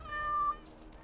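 A cat in Dragon Age Awakening gives a single short, soft meow heard alone in a quiet scene.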